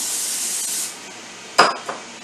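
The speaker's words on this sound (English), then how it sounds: "I spray a little Pam" A short hissing spray from a Pam cooking oil can onto chicken breasts fades out, followed by a couple of sharp clinks and light handling noises.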